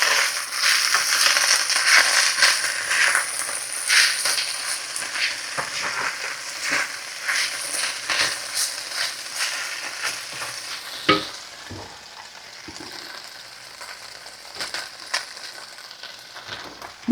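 Meat and onions sizzle loudly in a pan while being stirred, a dense frying hiss with repeated scraping and clattering that quiets partway through.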